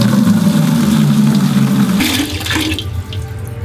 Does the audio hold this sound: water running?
yes